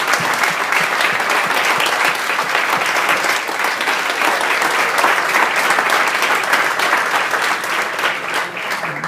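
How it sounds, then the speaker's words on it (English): Sustained applause from a sizable audience at an awards ceremony, steady and loud throughout with dense clapping and no voices standing out. "So a round of applause again for the schools."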